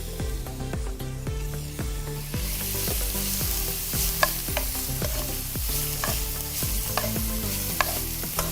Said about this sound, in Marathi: थोडासा ब्राऊन होईपर्यंत आपण परतून घेऊ